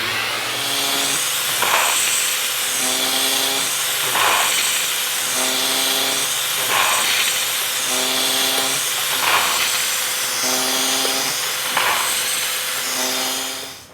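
A machine trims brass .223 Remington rifle casings with a boring bar and sizer die, cycling in a steady repeating rhythm of whirring cuts and mechanical clunks, loud and continuous.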